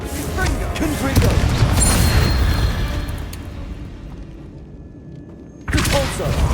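Confringo blasting spell explosions in Hogwarts Legacy: loud crackling bursts and booms pile up in a heavy flurry, fade into a quieter stretch, then another sharp blast hits abruptly near the end.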